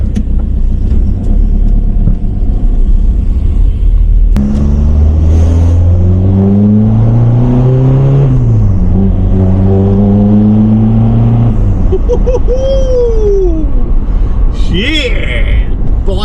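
A vehicle with a PD150 engine and a freshly repaired engine mount accelerates hard with its wheels spinning in third gear, the engine loudly revving up through rising gear pulls while people whoop and talk over it.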